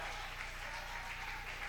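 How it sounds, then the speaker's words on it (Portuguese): A church congregation claps together in praise, a dense, steady patter of many hands that fills the room for a short moment without a break. "Vamos aplaudir o nome do Senhor."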